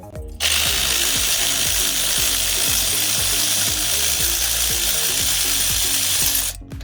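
An AC Delco cordless power tool with 55 ft-lb of torque is used on the front end of a WK1 Jeep Grand Cherokee SRT8, giving a loud, steady mechanical whir with rapid ratcheting clicks and no talk.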